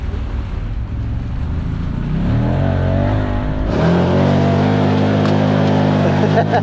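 Can-Am Commander XTP side-by-side on an off-road group ride, engine droning steadily then revving up louder as it accelerates, with wind rush and jostling noise throughout.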